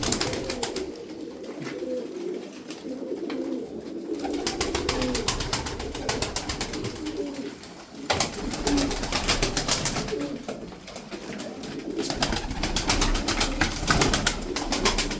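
Tumbler pigeons coo in low, soft murmurs while bursts of wing flapping flutter in and out, with a steady bed of background noise throughout.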